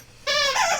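A dog gives a single short, high whimper, a nasal whine close by that rises and then trails off.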